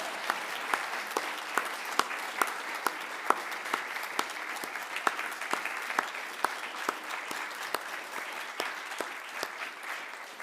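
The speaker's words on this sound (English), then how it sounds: "Can we give some technical applause for the technical goodbye?" A lecture audience applauds steadily for about ten seconds, a dense mass of claps with sharper individual hits standing out at a fairly even pace, moderately distant and with no talking over it.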